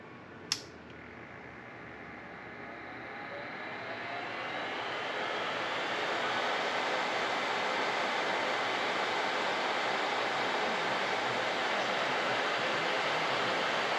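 An electric nail dip powder dryer switches on with a sharp click and then blows a steady, broadband rush of air that builds over a few seconds and holds evenly, fairly quiet and close, with no talk.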